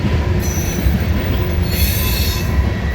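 CSX freight train led by a Western Maryland heritage unit rolling past Point of Rocks station, loud continuous rumble of rail cars with high-pitched wheel squeal rising and fading, close by and steady throughout.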